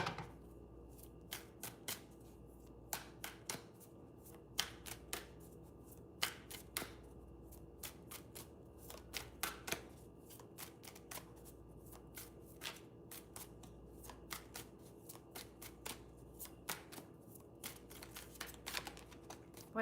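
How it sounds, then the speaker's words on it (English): Tarot cards being shuffled and drawn, a steady run of crisp riffling snaps and soft flicks with irregular bursts, close and quiet, with no talking. "let me draw more cards for what they feel for you"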